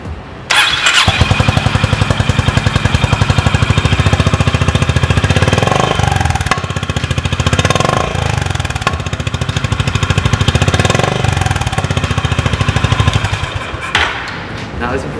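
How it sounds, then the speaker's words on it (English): A Honda H'ness CB350 single-cylinder, long-stroke motorcycle engine cranks and catches, then runs with a loud, rapid, thumping idle that rattles steadily before cutting off near the end. "let's turn her over and see what the Honda CB350 really sounds like"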